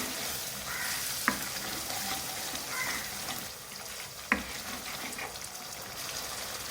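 Egg korma masala with yogurt frying in a pan, a steady close sizzle with stirring noises and two sharp clicks of a utensil against the pan, no talking.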